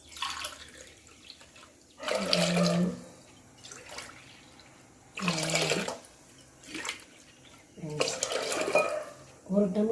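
Tap water runs in several separate bursts as rice, green gram lentils and sago are washed in a home kitchen for payasam, splashing and gurgling close by with short quiet gaps and a little background talk.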